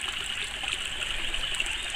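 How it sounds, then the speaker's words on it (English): Creek water flows steadily down toward a hydraulic ram pump with about four feet of fall, a continuous close rushing and trickling wash with no breaks. "Here you can see the creek flowing down to the ram pump."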